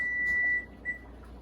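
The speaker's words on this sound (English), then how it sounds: "Once your timer goes off," A kitchen timer sounds during egg boiling for deviled eggs, with a long steady electronic tone followed by a shorter beep, close and clear with no talk.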